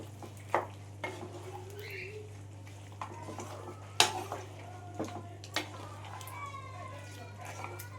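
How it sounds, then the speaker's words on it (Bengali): Mutton is stirred together with a paste of ginger, garlic and dried chili in a pan, producing intermittent spoon knocks and scrapes over a soft, steady frying sizzle, close by. "এবার আমি ভালো করে মটনের সাথে মিশিয়ে নেব।"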